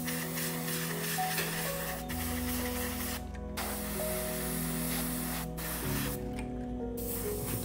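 Winter whitewash paint is sprayed from a can over a hairspray layer on a model, with close aerosol hissing in several bursts separated by brief pauses, while faint music plays underneath.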